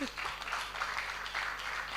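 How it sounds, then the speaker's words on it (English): Faint scattered audience applause at a platform launch event, soft patter of clapping with a murmur of voices, distant and low in level. "A round of applause for him, please."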